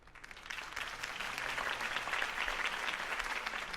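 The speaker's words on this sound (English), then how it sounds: "could have heard that applause" Crowd applause follows Harvey Dent's campaign speech in the Batman Telltale video game, a dense sustained clapping that swells within the first half second and stays full and even throughout.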